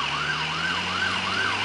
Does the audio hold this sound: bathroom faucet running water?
no